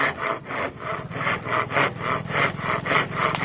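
Coconut lumber cut with a handsaw, no power tools: steady rhythmic back-and-forth rasping strokes, close and even, about two strokes per second, with no voices.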